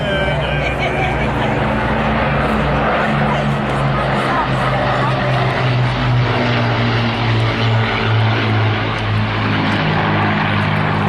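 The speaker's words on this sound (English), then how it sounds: "Listen out again, the wonderful engine sound." A loud, continuous droning of a Lancaster bomber's propeller engines at an airshow, with a deep steady hum, close and sustained throughout, with faint crowd noise beneath.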